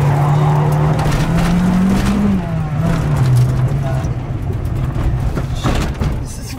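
A car drives fast with a loud, steady engine drone that rises and dips in pitch as it accelerates, up close and continuous throughout.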